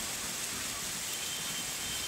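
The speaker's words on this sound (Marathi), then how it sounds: "अनेक ठिकाणी पाऊस पडतोय, मुसळधार पाऊस होतोय" Heavy rain pours over Ulhasnagar in the Mumbai area, a steady, dense hiss that holds evenly throughout with no voices.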